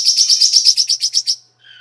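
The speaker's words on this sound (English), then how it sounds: "Fucking birds." Birds chirping: a loud, rapid run of high, bright tweets in quick succession, ending with a brief softer call after a short pause.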